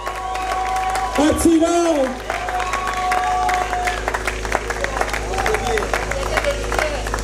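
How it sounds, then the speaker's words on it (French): An audience applauding at the premiere of the film Paris à tout prix, a close wash of clapping and crowd noise under an announcer's amplified voice and shouted calls. "On l'applaudit très très fort."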